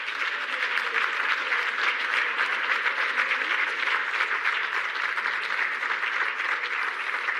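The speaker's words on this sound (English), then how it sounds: "Please, a round of applause" Steady, dense applause from a symposium audience at the close of a National Treasury climate resilience event, loud and continuous throughout with no voices over it.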